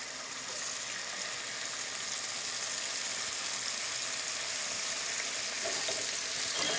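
Scallops sautéing in a hot pan, a continuous bright sizzle and crackle of frying, steady and close throughout with no talk.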